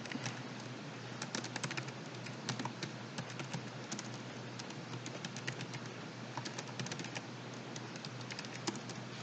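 Typing on a laptop keyboard: quick, irregular bursts of light key clicks, fairly quiet, over a steady background hiss, with no talking.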